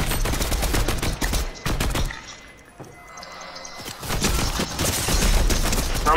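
Rapid bursts of gunfire in the video game Fortnite crack loudly in dense volleys, fall away into a brief quieter lull, then resume in heavy repeated shots.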